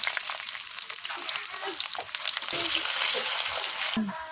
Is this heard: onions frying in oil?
yes